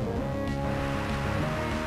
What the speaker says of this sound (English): he's going to Rain Dance